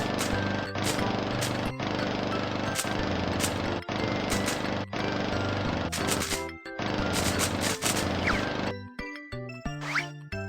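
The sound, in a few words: lawn mower mowing weeds in a children's video game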